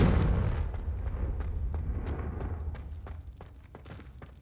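Confringo fire spell blasting in Hogwarts Legacy: an opening boom rolls into a long, dense crackle of rapid explosive bursts and thuds that gradually fade over several seconds, with no voices.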